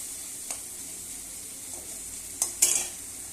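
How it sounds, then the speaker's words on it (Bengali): Tomato cooking in a pan for a cauliflower roast gives a soft, low sizzle under scattered scrapes of stirring, with a few sharper clinks of the utensil near the end. The sound is close and there is no talk. "এবার টমেটোটা একদম গলিয়ে যাবে ততক্ষণ পর্যন্ত আমি ভাজবো"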